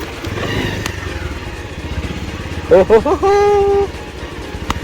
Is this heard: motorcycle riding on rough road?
yes